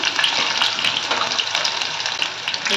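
Finely chopped onion dropped into hot oil with a bay leaf, a steady, loud hiss and crackle of sizzling that runs unbroken and close, with no talking over it.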